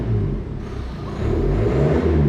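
Ford Focus engine burbling through a new custom exhaust, a loud, close, deep rumbling drone that holds steady with a slight rise in revs.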